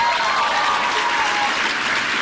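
Audience at an election eve congressional town hall clapping loudly and steadily, a dense sustained round of applause from a crowd close by.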